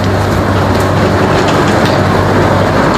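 A Bangkok metro train sits at the station platform, giving a loud, steady rumble with faint rattling and clickety-clack throughout, and no talking.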